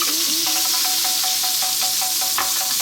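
Onion drops into very hot oil in a pan for Chinese five-spice pork belly, bursting into a loud, steady sizzle with crackling pops throughout, near and alone with no talk.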